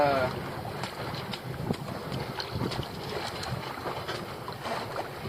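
Steady wind buffets the microphone and water washes past the hull of a small sailboat under jib and mainsail, moving at about three knots, a continuous rushing sound with no talk.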